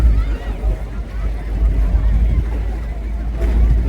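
Motorboat running out on the open sea off Bali, a steady loud low engine rumble mixed with wind buffeting the microphone and water noise throughout.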